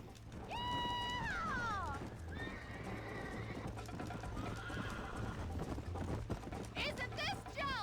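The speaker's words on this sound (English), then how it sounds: "I'm on a horse." A horse whinnies loudly several times while hooves clip-clop at a quick gallop in Red Dead Redemption, with people talking over it and a busy background.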